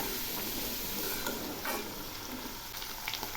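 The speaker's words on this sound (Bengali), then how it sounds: "এই বিনসগুলো খুব ভালো করে ভেজে নেব" Green beans with salt and turmeric fry in oil in a pan, giving a soft, steady sizzle with occasional stirring scrapes and no voices.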